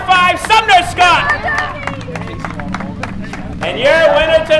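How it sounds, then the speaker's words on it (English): A crowd at a motorsports event applauds a race car driver: scattered clapping rises amid crowd babble, with a voice talking loudly over the start and end. "How about another round of applause?"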